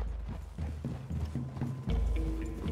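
Horse hooves clip-clopping in a steady, close rhythm while riding in Red Dead Redemption 2, with game ambience behind and a louder shift near the end.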